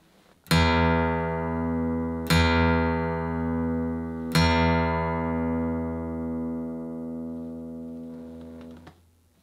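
A 2013 Gibson SJ-200 Standard acoustic guitar rings out with three deep, full low bass notes struck about two seconds apart, each sustaining and overlapping the last before fading, played alone without talk.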